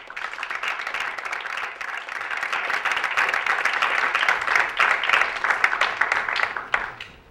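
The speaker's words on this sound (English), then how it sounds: "Let's give him a clap on in." A crowd claps as a guest walks onstage at a community gathering, a sustained patter of many hands that swells toward the middle and then tapers off at the end.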